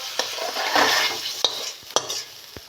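Sautéed pangas fish gets scraped out of a sizzling pan, a close, busy hiss of frying under three or four sharp clicks of a metal spatula against the pan's edge.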